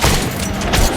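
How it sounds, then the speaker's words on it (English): A grenade blast in the post-apocalyptic shooter Metro: Last Light, a dense, loud burst of explosive rumble and crackle filling the whole second with no pause. "Grenade, grenade, grenade."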